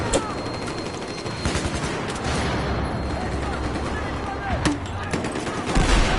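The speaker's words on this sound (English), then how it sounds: "Oh, that's a mortar coming." Incoming mortar fire in the video game Battlefield 4 amid continuous battlefield gunfire, with loud blasts and booming impacts standing out over the din and voices talking through it.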